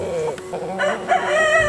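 Two roosters crow at a farm animal sanctuary, a close, loud cock-a-doodle-doo rising and falling over about two seconds, with faint clucking and background farm noise.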